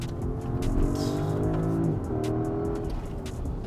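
2024 Porsche Cayenne Turbo with 739 hp accelerating hard, a loud, close engine roar with rising and shifting tones, heard from inside the car without talk.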